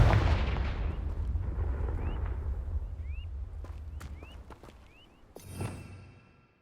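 A fiery Confringo spell blast in Hogwarts Legacy erupts in a loud, rumbling explosion that slowly decays. Short whooshing and swishing effects and faint pops follow, then a second, smaller burst lands near the end.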